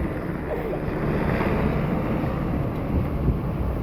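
Steady, loud wind buffeting the microphone, with a broad low rumble and a wash like surf running under it the whole time.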